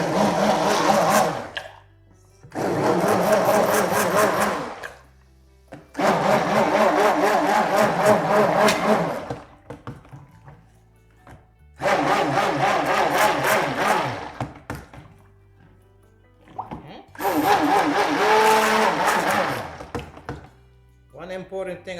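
A kitchen blender whirs in five loud bursts of a few seconds each, mixing carrot soap ingredients with oil, separated by short pauses with a low background hum between runs.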